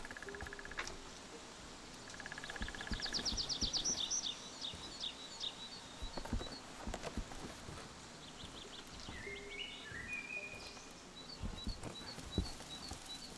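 Songbirds chirp in a spring countryside ambience from the farming game Farmer's Dynasty 2, with faint scattered high tweets and short trills coming and going over a soft, quiet background.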